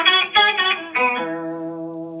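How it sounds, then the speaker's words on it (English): A SubnUp guitar pedal on its up-octave setting voices several picked guitar notes with a bright, doubled-pitch shimmer, the last note ringing out and slowly decaying, heard up close with no talking. "Here's the up octave sound."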